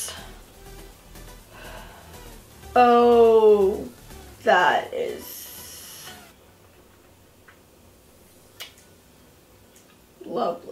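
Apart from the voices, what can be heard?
aerosol setting spray being sprayed on face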